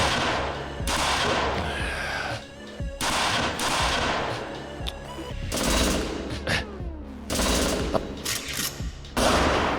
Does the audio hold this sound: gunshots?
yes